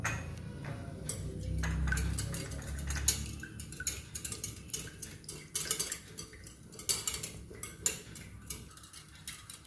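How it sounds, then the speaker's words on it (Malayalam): A spoon clinks and scrapes against a bowl as milk is mixed into an egg mixture for dipping bread at a student cooking contest. The tapping is quick and uneven, near and moderately soft, with no voices. "പാൽ ഒഴിച്ചെടുക്കാം. 2 ടീസ്പൂണാണ്. ഇതൊന്ന് മിക്സ് ചെയ്തെടുക്കാം."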